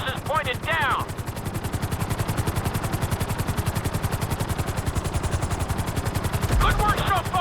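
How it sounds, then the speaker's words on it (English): A Grand Theft Auto V helicopter at full speed throbs with a steady, fast rotor chop that carries on throughout, while brief bursts of speech come in at the start and the end. "To maximize acceleration, keep the nose of the helicopter tipped."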